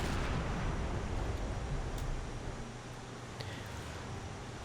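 A distant, rumbling torpedo blast strikes an unarmed ship in the submarine game Silent Hunter 5, a heavy low boom that slowly fades into a faint roar with no one speaking.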